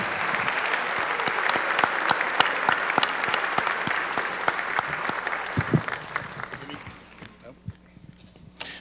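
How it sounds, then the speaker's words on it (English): An audience at an award ceremony claps steadily and loudly for several seconds before the applause thins out and fades away. "Let's give them a round of applause for their extraordinary support."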